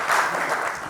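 Brief applause from the audience in a conference breakout session at a summit in Edinburgh, a dense patter of clapping hands that holds steady for about a second.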